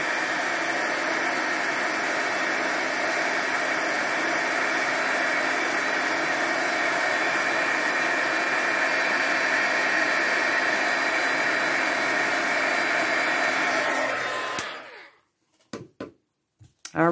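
A craft heat tool blows hot air to emboss stamped card backgrounds, a steady loud whirring rush held for about fourteen seconds before cutting off, followed by a few faint handling knocks.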